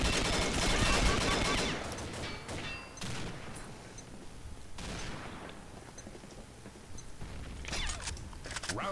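Machine gun fire in the shooter game Combat Arms: loud bursts of rapid gunfire, heaviest at the start, then scattered shots and renewed volleys near the end, with no voices.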